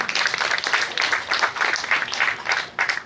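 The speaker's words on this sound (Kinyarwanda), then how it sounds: "Ni ukuri rero amashyi menshi cyane." Steady applause from a gathered crowd at a Rwandan dowry-giving ceremony, rhythmic clapping close and fairly loud throughout, rising and dipping in waves over a few seconds.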